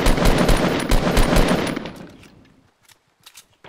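Rapid automatic gunfire in the video game Fortnite, a dense loud burst of shots that fades out over about two seconds, followed by a few faint scattered distant pops.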